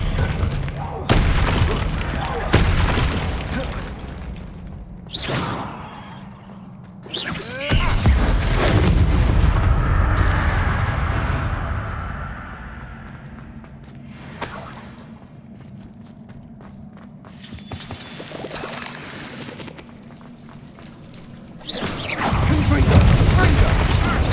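Spell blasts and impacts from Confringo and Expelliarmus cast in Hogwarts Legacy, a string of loud booming bursts and crackles in a dark spider-filled area, with a game voice speaking between hits.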